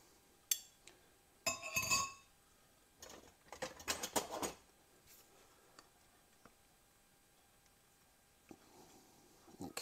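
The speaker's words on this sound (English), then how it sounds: "We're just gonna mix that up, break those yolks up a little bit and put that in." Egg yolks are mixed in a bowl for a Southern butterscotch pie, heard as scattered quiet clinks and short scraping bursts of a utensil against the bowl, close and faint between pauses.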